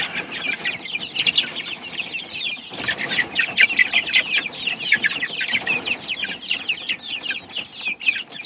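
Andalusian bantam cockerels crowded in a pen cluck and squawk in agitation, a dense, continuous chorus of overlapping calls close by, with occasional wing flapping and rustling beneath.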